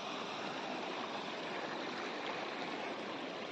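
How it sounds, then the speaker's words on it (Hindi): A waterfall and river stream roar in a steady, loud, continuous wash of rushing water, with no voices. "और ये है वो जगह, वो वाटरफॉल।"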